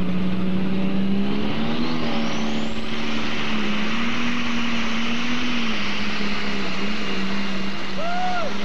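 Case MX270 diesel tractor in a super stock tractor pulling run, its engine droning loud and steady with a sustained low roar and rising whine, heard continuously at close range with a voice briefly audible over it.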